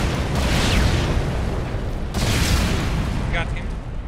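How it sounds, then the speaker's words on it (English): A grenade blast in Tom Clancy's Ghost Recon: a loud, broadband boom that rumbles for a couple of seconds, then a second heavy burst, with low voice chatter underneath. "Injured my mark. I'll nade him."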